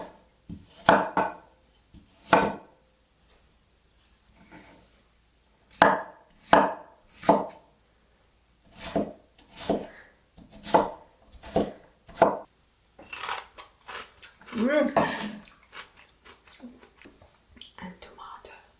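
A knife chops cucumber on a board in short bursts of crisp, close strikes, separated by pauses, with a faint voice murmuring in between.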